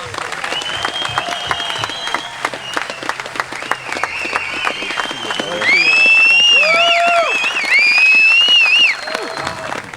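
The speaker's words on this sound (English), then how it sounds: "with no further ado and a huge round of applause, can we welcome out the man of the hour" Crowd applause and cheering greet a Shoreham BMX rider walking out at a jam, steady clapping throughout with loud whoops and whistles rising partway through, while a voice talks over the noise.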